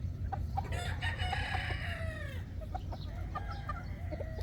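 Gold Boston gamefowl chickens on a farm: a rooster crows once, a drawn-out call near the start, while hens cluck and chatter steadily around it against low outdoor rumble.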